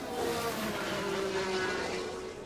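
Formula 1 cars in the F1 Manager 22 racing game, a continuous high-pitched engine drone with a rising whine as one car overtakes another, steady and fairly loud with no talk.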